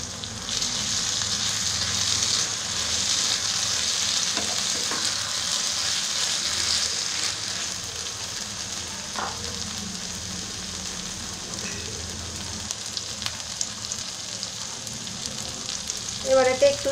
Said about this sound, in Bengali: মশলা তেল ছাড়তে শুরু করলে এক চা চামচ সর্ষে বাটা দিয়ে দিই